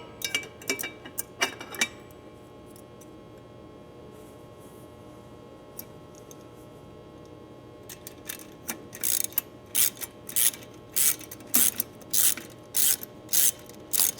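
A V-band clamp is fitted and tightened onto the U-pipe of a Push Industries turbo kit muffler on a John Deere 1025R tractor. It gives quick bursts of ratcheting clicks, sparse at first and then repeated rapidly toward the end, with no speech.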